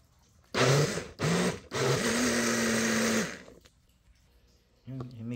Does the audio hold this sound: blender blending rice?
yes